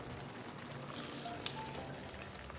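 Water is poured into a pot of washed rice for shea butter jollof, making a soft, steady trickle with a brief clink partway through.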